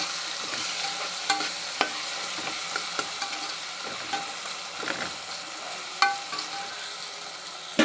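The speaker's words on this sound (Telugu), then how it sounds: "టమాటాలు చూడండి మెత్తంగా ఇలా కాలుకోవాలండి" Tomatoes fry and soften in oil in a pan while a utensil stirs them, giving a steady close sizzle with scattered scraping clicks against the metal and no voices.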